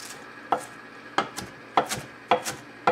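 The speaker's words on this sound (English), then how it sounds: "we're just going to coarsely chop this baby spinach" A knife coarsely chops baby spinach on a cutting board, a steady run of crisp close taps, some in quick pairs, with no one talking.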